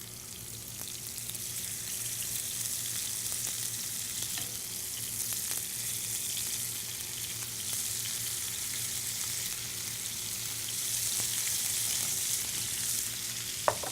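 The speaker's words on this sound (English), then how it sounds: "that's exactly what we want to hear, the sizzle." Venison loin sizzles steadily in a hot sauté pan, a continuous crackling hiss with occasional pops, close and moderately loud.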